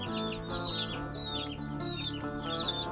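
Baby chicks cheeping and peeping near the microphone, a flock of young guineas, Barred Rocks and Americanas or Easter Eggers, with overlapping high calls in quick irregular bursts and soft clucking underneath.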